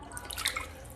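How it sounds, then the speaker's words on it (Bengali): Water drips and splashes lightly while catla fish are being rinsed, a few soft scattered droplets, faint and close, with no voices. "মাছগুলো এখন ভালো করে একবার ধুয়ে দিচ্ছি, পরিষ্কার করে সুন্দর করে মাছগুলো এখন ধুয়ে নেবো।"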